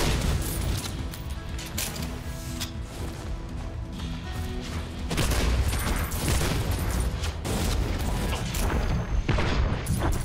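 Shotgun blasts in the first-person shooter Soulslinger, a dense, continuous barrage of booming shots and crashing impacts layered over game music and mechanical clatter, loud throughout.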